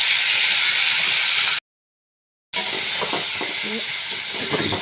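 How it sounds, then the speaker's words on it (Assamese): Chicken meat frying in a pan for a chicken gravy, with a steady close sizzle and hiss broken by a short silent gap, while faint voices sound underneath. "মাংস ভাজা হৈ গ'ল মোৰ।"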